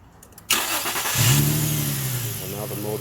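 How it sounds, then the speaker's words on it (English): A 2003-2008 Infiniti G35 engine cranks briefly after a starter repair, catches with a sharp rise and settles into a steady, close idle with a low rising hum. "So now the motor starts up"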